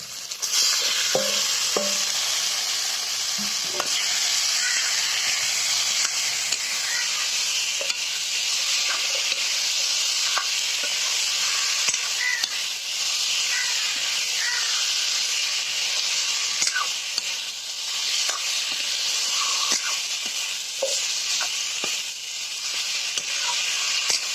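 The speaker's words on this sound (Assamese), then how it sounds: "এতিয়া মাংসখিনি দি দিম।" Chicken pieces frying in a hot pan for a chicken and potato curry, a steady loud sizzle and hiss with scattered stirring scrapes and small crackles running throughout, close up and without talk.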